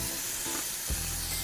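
Steak sizzles on a grill grate, a dense continuous hiss filling the short stretch, with a brief low thump near the end and no voices.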